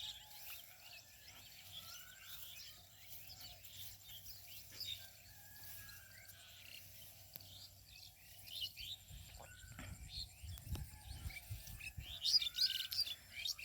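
Many small birds chirp and tweet continuously in the open air over an aman rice field in Mahadevpur, Naogaon, Bangladesh, with faint insect buzzing underneath and light rustling near the end.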